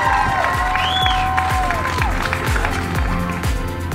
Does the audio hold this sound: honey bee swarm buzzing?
no